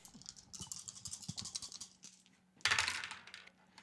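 Four dice clatter across a tabletop during a Warhammer 40K Kill Team game, a dense rattling patter of small hard tumbling hits, then a louder burst of rattling as they settle, fairly quiet and close.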